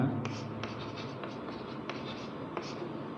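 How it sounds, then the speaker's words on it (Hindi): Chalk or marker strokes write on a board during an Indian classroom physics lesson about an AC generator, giving scratchy taps and short scraping strokes at an irregular pace, close by and fairly clear over a low room hum. "यहाँ लिखते हैं"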